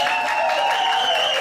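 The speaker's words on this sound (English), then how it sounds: "But they're not going to dance until they hear applause." Audience applause at a ballroom dance club's spring showcase, a steady continuous wash of clapping throughout, fairly loud and even, with a sustained tonal hum running beneath it.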